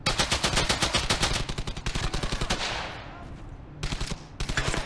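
Rapid bursts of machine gun fire in the World War II shooter Brothers in Arms: Hell's Highway, loud and continuous at first, easing off briefly, then resuming in short volleys.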